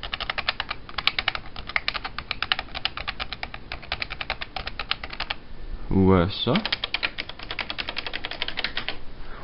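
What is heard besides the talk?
computer keyboard typing, 1990s keyboard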